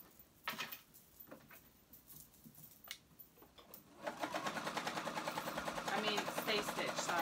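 Sewing machine stitching a single layer of fabric for a flounce tee, a few faint clicks and short runs first, then a loud steady rapid whirr of continuous stitching, with a voice speaking quietly at times.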